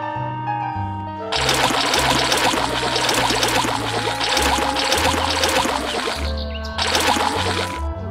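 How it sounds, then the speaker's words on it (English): Cleaning fluid sprays out in a kids' video game car wash, a bright hissing, sputtering spray lasting several seconds with a short pause and second burst, layered over cheerful game music. "Tap the button to spray the cleaning fluid."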